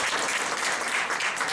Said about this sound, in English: Let's give Prof. Mkhize a big round of applause